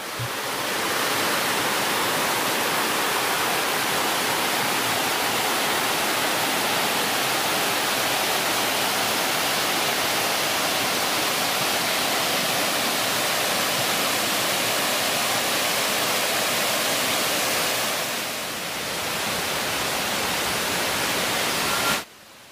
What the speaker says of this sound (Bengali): সুউচ্চ খাড়া পাহাড়ি ঢাল থেকে সরাসরি নিচে পড়েছে, তাই ঝর্ণার জলটাও একটা ধোঁয়ার মতো।